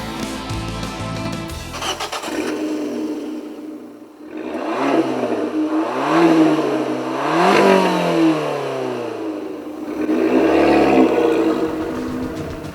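A Fiat 500 Abarth's 135 hp 1.4-litre turbo petrol engine cranks and catches, then revs repeatedly in rising and falling bursts, loud and close, with a raspy exhaust note between throttle blips.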